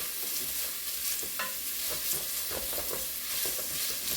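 Onions cook in a pot for a one-pot tuna noodle casserole, giving a steady close sizzle with brief scraping stirs over a constant hiss, and nobody talks.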